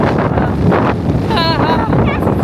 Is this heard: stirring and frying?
no